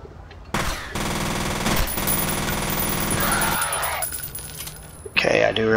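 Sustained rapid automatic gunfire in the shooter game F.E.A.R., a dense continuous burst lasting several seconds, loud and close, then cutting off before a sharp metallic clatter at the end.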